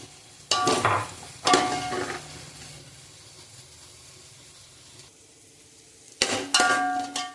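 Tomatoes and green chillies frying in a pan for a mutton biryani, heard as bursts of loud stirring and scraping over a steady low sizzle, with a quieter stretch in the middle before stirring picks up again.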